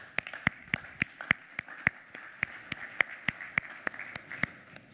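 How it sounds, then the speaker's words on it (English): Audience at a finance technology conference applauds, heard as sparse, sharp individual claps in an irregular rhythm at low volume. "give him a big applause"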